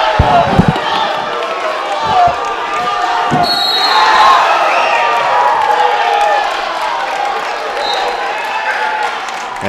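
Spectators at a 2014 community college wrestling semi-final cheer and applaud in a gym, a broad swelling crowd roar with claps and thumps beneath, while an announcer's voice carries over it.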